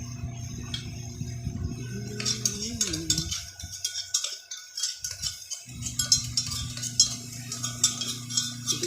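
Ingredients for a mutton gravy are stirred and sautéed in a cooking pan: metal utensil clinks and scrapes in irregular bursts over a steady low burner hum, with no talking.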